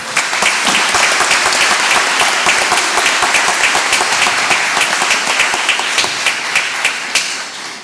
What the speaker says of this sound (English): Let's give these remarkable students a round of applause.